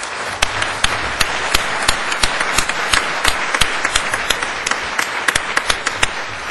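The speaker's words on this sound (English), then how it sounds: "I would like to take the time to just kind of give you a round of applause." Applause from a keynote audience at a 2009 technology conference, a dense wash of clapping with distinct sharper claps popping through at a steady, even loudness.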